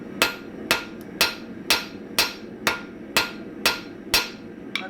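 A cross peen hammer strikes hot metal on the edge of an anvil in blacksmith production work, with nine sharp, ringing blows at an even pace of about two per second, close and loud.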